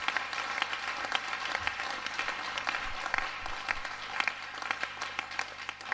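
Congregation at a Pentecost church service claps in sustained applause, a dense steady wash of many hands with a faint low hum underneath and no talking.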